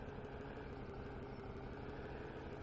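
A tuned, high-horsepower Ford Shelby GT500 in the video game Farming Simulator 17 idles with a steady, low exhaust rumble. It hums quietly and evenly throughout, with no voices.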